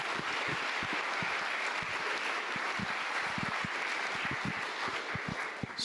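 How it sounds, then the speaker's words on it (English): Employees at an all-employee meeting give faculty members a round of applause, heard as steady, moderately distant clapping spread evenly through the room. "Let's give those folks a round of applause."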